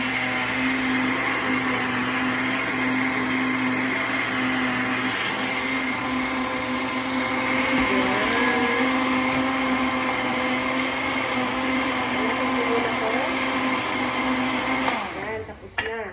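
A kitchen blender whirs loudly and steadily while blending tomatoes into juice, a constant motor drone with a few pitch wobbles, winding down at the very end.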